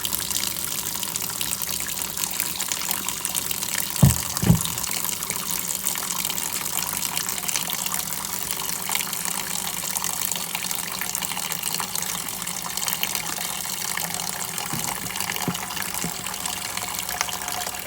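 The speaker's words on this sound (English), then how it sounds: "I'll get back with you when the water fills up" Tap water running steadily into a container during cleaning of a glass insulator, a continuous even gush lasting throughout with a couple of brief knocks early on and no talking.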